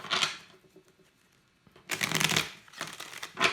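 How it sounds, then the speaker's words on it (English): Tarot cards are shuffled in two quick riffling bursts close up, with a quiet pause and soft handling between them, then a shorter third flurry, no voices. "let's go ahead and pull out your 3 cards"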